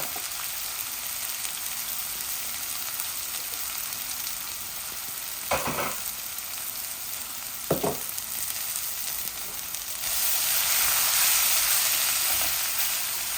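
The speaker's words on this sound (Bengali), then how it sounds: "এখন আমি অনিয়নগুলা দিব বিসমিল্লাহ" Onions going into a hot pan for a Bangladeshi chicken and potato curry, a steady soft frying hiss with a couple of brief louder sizzle bursts, then the sizzle swelling brighter and louder near the end.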